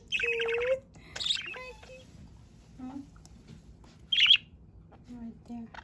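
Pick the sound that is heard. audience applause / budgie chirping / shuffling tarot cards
budgie chirping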